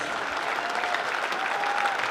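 Steady applause from a crowd at a basketball championship awards ceremony for the NZ secondary schools AA boys, a dense even clatter of clapping lasting the whole stretch at moderate loudness.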